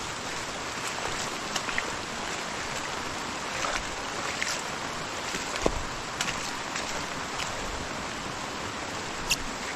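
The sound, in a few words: rain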